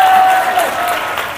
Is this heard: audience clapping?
yes